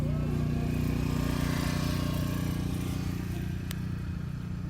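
Motorcycles ridden by costumed elves in a Christmas parade pass with a steady low engine rumble and throaty idle, fairly close, amid faint crowd background.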